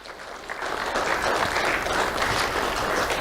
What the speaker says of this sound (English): Let's have a round of applause for our civilian support unit.